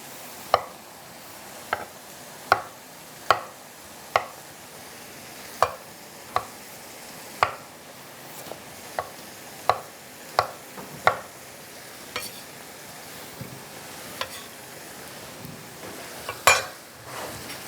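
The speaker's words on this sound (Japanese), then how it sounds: "さあトッピングで使うアボカド、今のうちに切っておきましょう。" A knife cuts avocado for a chili nacho topping, making sharp single taps on a board at an irregular pace, close and clear over a faint sizzle in the background.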